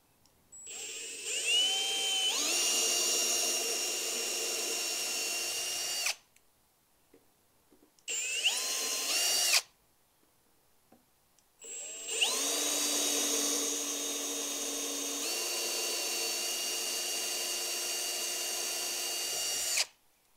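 Power drill boring holes into a wooden step stool built for a Pierce Arrow 1397 Travelodge trailer: three loud, sustained whining runs with rising pitch at each start, separated by silent pauses, no talking.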